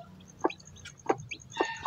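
A native hen clucking softly in short repeated calls, with high peeping of chicks scattered around, close by and fairly quiet.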